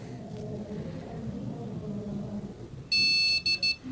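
A PC with an oxidized RX 5700 XT graphics card gives a POST beep code: a long, loud electronic tone followed by short beeps, sounding over a low hum of the machine.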